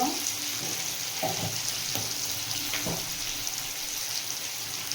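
Ground cumin and coriander fry in an oil-filled pan for a Bengali kundari (ivy gourd) bharta, a steady close sizzle with a few soft stirring scrapes and no talking.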